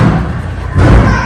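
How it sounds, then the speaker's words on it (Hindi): Heavy thuds and a slam as a door is forced and broken down during a violent confrontation in Bhilwara, booming loud and close with a dull, low impact. "दरवाजा तोड़ने की आवाज"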